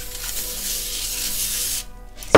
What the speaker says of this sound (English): Spray it with oil and then just put our whatever you're going to bake.